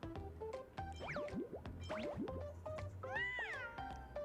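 Cartoonish cat meows from the video game Honkai: Star Rail, a rapid string of bright rising and falling mews with springy bouncy effects, busy and continuous with no talking over it.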